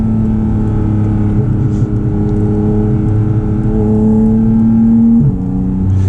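A Porsche Cayman GT4 RS on a rough New Jersey road, its engine droning loudly and steadily close up, with pitch shifts as it downshifts and revs, and no speech over it.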